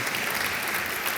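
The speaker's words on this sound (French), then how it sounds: "Vous pouvez les applaudir encore très fort." A large audience applauds steadily at a convention signing during a mentoring month launch ceremony, dense clapping filling the hall without pause.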